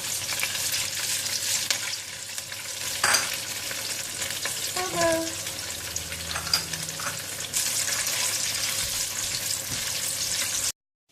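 Tofu frying in hot oil, a steady close, bright sizzle with occasional pops and a few utensil scrapes and clinks, running continuously before cutting off abruptly at the end.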